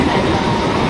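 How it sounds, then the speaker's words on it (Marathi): A fast suburban local train pulls out of the station, a dense, steady rumble of wheels and carriages filling the whole second, loud and close with no talk. "आमची ट्रेन परत सुटली आहे, मस्त फास्ट ट्रेन होती।"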